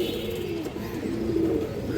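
Pigeons of large and hand-length breeds, kept by a fancier, coo in a low, continuous throaty murmur, close by and steady throughout with soft overlapping calls.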